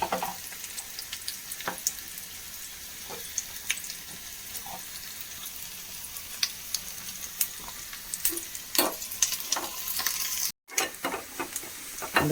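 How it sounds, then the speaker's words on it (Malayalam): Dried prawn and mango curry bubbling in a pressure cooker pot, a quiet, continuous crackling simmer with scattered small pops over several seconds. "കറി നന്നായി തിളച്ച് വന്നിട്ടുണ്ട്"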